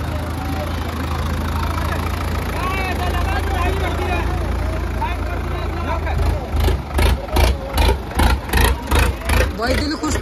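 An Indo Farm tractor engine runs loudly at a tractor competition, with a steady heavy drone that turns into rhythmic pulsing bursts near the end, while people talk and shout nearby.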